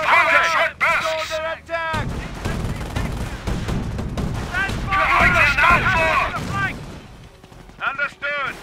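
Short bursts of gunfire and artillery thuds crackle through a Company of Heroes battle, loud and repeated, mixed with shouted unit voices and chatter throughout.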